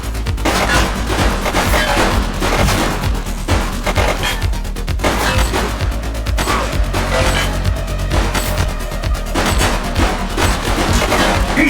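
A fleeing suspect opens fire in The Precinct police video game. Loud, rapid gunshots and volleys repeat steadily for several seconds, dense and close, with no pause in the shooting.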